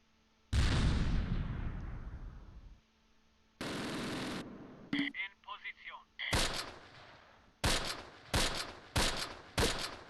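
Gunfire in the World War II tactical game Close Combat, with a long roaring burst fading away, then a broad blast and a run of sharp rifle and machine-gun volleys, loud and close.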